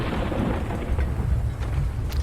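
Deep thunder rumbles across the sky in a video game, a continuous low, loud roll with no pauses and no talk over it.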